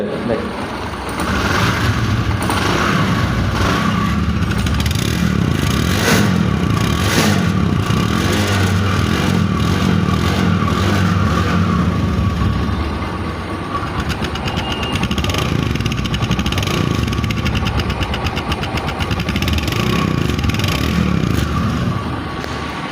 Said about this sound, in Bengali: বাইকটা কিন্তু স্টার্ট অবস্থায় আছে,